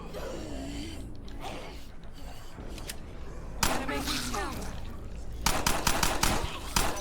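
Video game gunfire comes in rapid bursts, with dense crackling volleys in the second half that grow louder toward the end, layered over a steady mechanical background.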